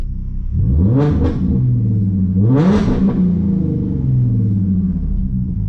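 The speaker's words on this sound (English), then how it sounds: "Let me give y'all some revs real quick" A V6 Mustang engine idles loudly, then revs up twice in quick blips and once more in a longer roar before settling back to a rumbling idle.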